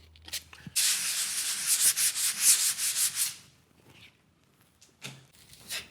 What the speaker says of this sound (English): So scuff and sand the area and take out any loose bits or loose paper.